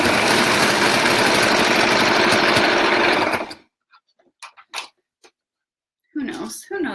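A sewing machine runs loud and steady in a fast, even mechanical whir for about three and a half seconds, then stops abruptly, followed by a few faint clicks and brief human sounds near the end.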